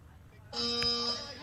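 A tonal electronic buzzer at an archery premier league match sounds for about a second, loud and steady with a bright harmonic tone, cutting in over arena ambience after a brief quiet lead-in.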